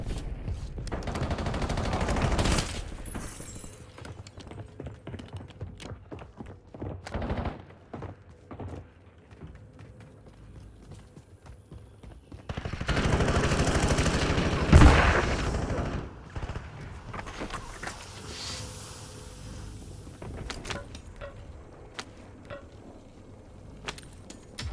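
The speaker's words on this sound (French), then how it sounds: "Les gars, faut que tu tires, bordel!" Bursts of assault-rifle gunfire in a Warzone battle royale match, with a heavy, sustained volley in the middle and scattered shots before and after, loud and close.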